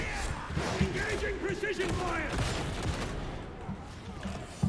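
Gunfire from a Dreg Gunner enemy in Warhammer 40,000 Darktide, a dense fusillade of rapid shots mixed with battle noise, under voices shouting throughout.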